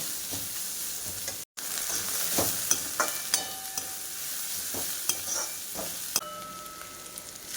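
Vegetables stir-frying on high flame for jowar hakka noodles, a loud continuous sizzle with repeated sharp clinks and scrapes of a spatula against the pan, broken by a brief silent gap.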